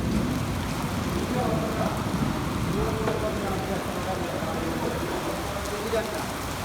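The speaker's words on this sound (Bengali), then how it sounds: "পাশাপাশি বৃষ্টি হইতেছে মুসলধারায়" Heavy rain pours in a dense, constant hiss, with faint low rumbling underneath and no clear break in the downpour.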